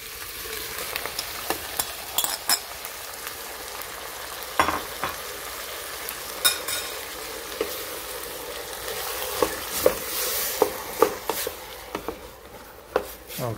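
Tomatoes hit a hot pan and sizzle steadily while a utensil stirs and scrapes in irregular knocks, close and fairly loud, with no talking.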